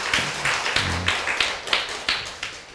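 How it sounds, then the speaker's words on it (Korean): A church congregation claps together in a Korean Sunday worship service, with a run of distinct, fairly loud hand claps spaced irregularly and no talking over them. "기왕 수고했다고 박수하는 김에"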